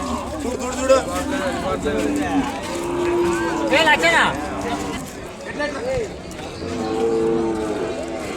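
Calves aged six months to a year at the Kodad cattle market, with bleats and moos rising over a busy crowd as people talk nearby, the din steady and close.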